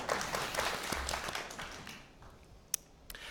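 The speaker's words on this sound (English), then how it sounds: "I didn't mean to step on the applause there" Audience applause at a Great Lakes town hall meeting, a moderate burst of clapping that fades and thins toward the end, leaving a few isolated claps near the close.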